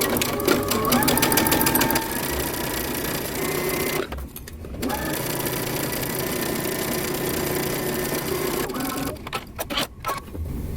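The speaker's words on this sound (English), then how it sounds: "We're going to sew down the sides using 3/8 of an inch seam allowance." A sewing machine stitches the side seams of a top at a 3/8-inch seam allowance, running steadily and close up, with a brief pause around the middle and a few stops and restarts near the end.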